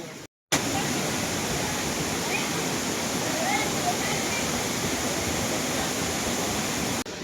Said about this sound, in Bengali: আর এই হচ্ছে আমার সামনে কেম্পটি ওয়াটারফল।